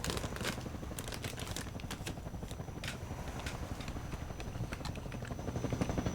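A helicopter in the video game Half-Life 2 thumps with a rapid, steady rotor chop, loud and continuous, with sharp crackling impacts scattered over it.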